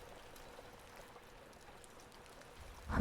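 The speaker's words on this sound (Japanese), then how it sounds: "ここから降り始めた雨は街の音を一つずつ静かに包み込んでいました。" Steady rain falls in a town, a soft even patter that fills the whole clip before a louder swell of water at the end.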